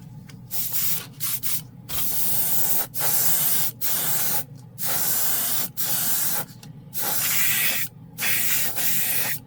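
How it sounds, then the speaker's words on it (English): Vevor 2-gallon air compressor driving loud, close bursts of hissing compressed air, several spray blasts in an irregular rhythm separated by short gaps, with no talking. "Let me go turn the compressor back on."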